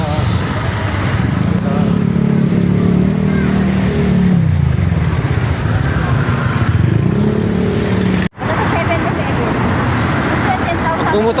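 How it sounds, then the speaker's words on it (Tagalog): Road traffic of cars and motorcycles in the Philippines: a steady, loud engine rumble with rising revs and passing vehicles, while people talk over it. "Traffic palabas."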